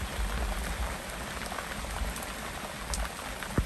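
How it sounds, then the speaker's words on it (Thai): Steady rain falls close by, a dense hiss of drops pattering on a surface that never lets up, with one sharper tap near the end and no voices. "แม่บอกว่าเดี๋ยวฝนก็หยุด"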